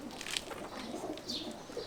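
Soft pigeon cooing in a quiet space, with faint chirps and light rustling; the birds sound fairly close but low in volume.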